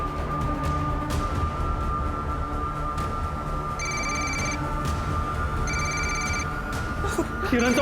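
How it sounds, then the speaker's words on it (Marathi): Telephone ringing with an incoming call in a crime drama scene, two distinct bursts of electronic ringing over a steady humming background. "किरणचा फोन आहे।"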